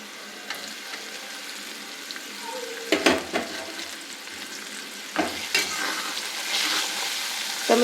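Crushed garlic cloves fry in hot oil for a Gujarati garlic curry, giving a steady close sizzle broken by a few louder bursts of stirring and scraping against the pan.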